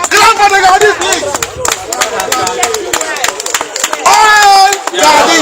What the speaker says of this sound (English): Can we please clap for the Gadi? Clap for the Gadi, please.